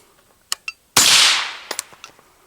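A single suppressed 5.56 rifle shot fires through a Tisha suppressor on setting 5. There is a sharp loud report with a short decaying rush, surrounded by a few faint clicks and metallic taps.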